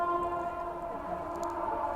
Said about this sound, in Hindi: 12826 आनंद विहार रांची सुपरफास्ट एक्सप्रेस अपनी ट्रेन को ओवरटेक करने।